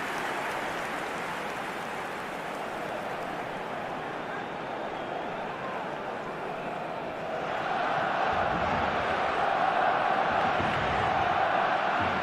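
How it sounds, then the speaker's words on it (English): Football stadium crowd at a Barcelona versus Inter Milan match, a broad, steady roar of cheering and applause that swells louder toward the end, with a commentator's voice faintly mixed in. "at least the crowd are appreciative of his efforts"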